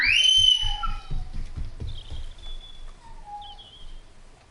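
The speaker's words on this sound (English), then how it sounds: "That's a bird." A bird in the Red Dead Redemption 2 video game gives a few thin, faint whistled calls at a distance over soft outdoor ambience and low thumping.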